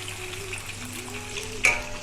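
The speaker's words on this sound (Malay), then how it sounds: "Kena tunggu lama sikit lah goreng" Cassava shoots fry in oil in a pan, giving a steady close sizzle with a brief louder burst as they are stirred near the end.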